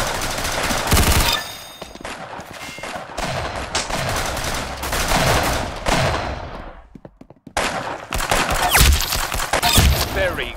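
Rapid bursts of gunfire in the Roblox game Arsenal, loud and close, with repeated volleys separated by brief gaps and a short near-silent pause before the shooting resumes.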